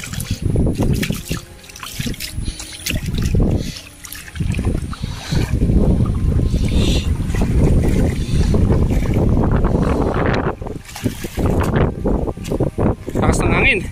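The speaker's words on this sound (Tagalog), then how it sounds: "Lakas ng hangin mga Kalingap," Strong wind buffets a boat on open water, with loud, continuous gusting rumble and splashing throughout, close to the microphone, while people talk over it.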